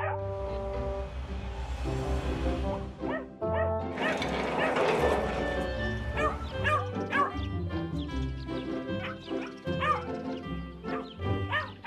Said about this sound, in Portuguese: Você está ouvindo um latido?